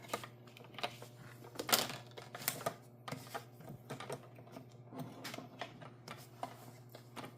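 Masterboard paper being cut in half, with quiet close rustling, scraping and crisp ticking cuts coming in irregular bursts at low volume.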